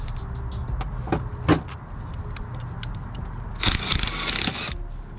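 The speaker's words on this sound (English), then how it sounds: "Connected to a drill, it makes riveting so much easier." A drill-powered rivet tool whirs steadily with a few clicks, then a louder, harsher burst of grinding mechanical noise as the rivet sets, fitting fender vents on a Subaru WRX STI.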